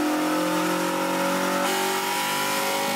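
A Nissan VQ37VHR V6 engine revs hard and close, holding a strong, steady harmonic drone for about three seconds with a slight shift in pitch partway through. No voices accompany it.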